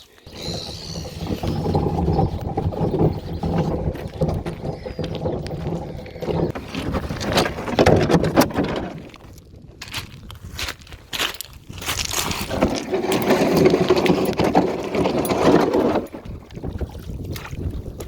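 A small boat fitted with lawnmower wheels on its bow is dragged across ground, giving rough scraping and rumbling in uneven bursts, with gusty wind buffeting the microphone and a brief lull midway.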